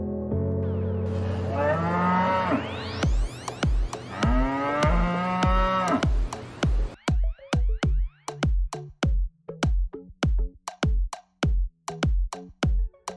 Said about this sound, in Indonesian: Ini adalah sapi.